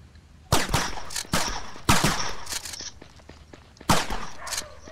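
Gunfire in the Combat Extreme video game: several sharp shots arrive in bursts, loud and close, spaced a second or two apart with quieter gaps between them.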